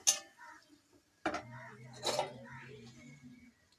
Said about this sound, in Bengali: এবার একটু ঢাকা দিয়ে দেবো